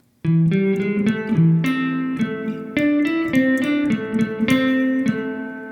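A guitar picks out a riff of single plucked notes, one string at a time, close and clear, with notes ringing briefly into each other.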